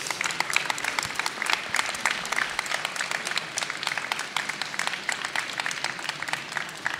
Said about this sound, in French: Mesdames, messieurs, vous pouvez vraiment les applaudir, bravo.